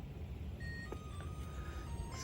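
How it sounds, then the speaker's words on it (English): A microwave alarm beeps in a campervan running on an inverter: short, faint tonal beeps sit over a steady low hum and background noise, with no talking. "so that noise is that alarm noise is from my microwave."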